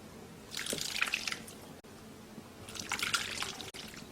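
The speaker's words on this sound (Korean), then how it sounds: "충분히 삭으니까 국물이 이렇게 너무 잘 빠지죠?" Fermented rice liquid for grain syrup drains through a strainer into a bowl, two bursts of splashing trickle separated by a brief lull, close and fairly faint.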